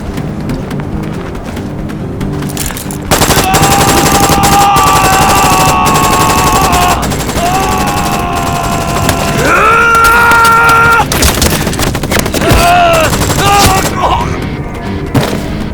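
Loud gunfire in an animated series, rapid bursts crackling over sustained tonal music and effects, with a few heavier booms through the middle.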